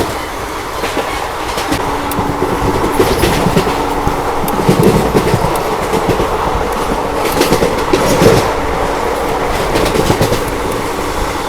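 Geeta Jayanti Express passenger train running at about 110 km/h, a steady loud rumble of wheels on rail with rhythmic clickety-clack and a few brief squeals, heard continuously from on board.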